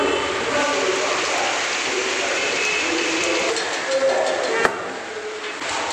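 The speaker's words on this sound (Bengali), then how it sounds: "অনবরত বৃষ্টি হয়েই যাচ্ছে" Heavy, continuous rain pours down outdoors as a steady, even hiss that fills the background without a break, with a faint voice or two now and then.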